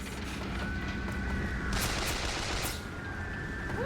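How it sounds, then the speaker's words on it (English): Gunfire in BioShock Infinite: a rapid burst of shots stands out mid-way over a constant dense background of game noise, with fainter shooting before and after. "Who's shooting at me?"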